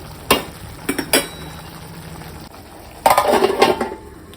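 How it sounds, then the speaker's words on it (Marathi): A lid goes onto a pan of tomatoes cooking for Agri-style pomfret fry, with sharp metal clanks and clatters in two bursts over a low background simmer, close and loud, no speech. "याच्यावर पुन्हा मी 2-1 मिनिट झाकण ठेवते."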